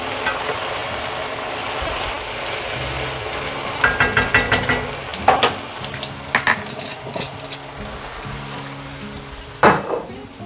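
White wine hitting a hot pan of squid and prawn seafood stew with bay leaves, a steady close sizzle broken by clusters of sharp spoon-and-pan clinks and scraping as it is stirred.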